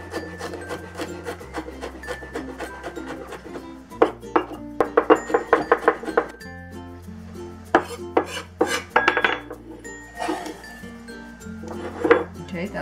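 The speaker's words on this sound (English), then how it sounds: "next let's mince the garlic" Knife chopping and mincing garlic on a wooden board, with bursts of quick close taps and scrapes of the blade, set against a steady low hum.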